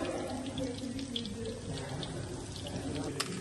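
Small mixed-vegetable pakoras fry in hot oil, making a continuous close sizzling hiss with scattered pops and crackles throughout.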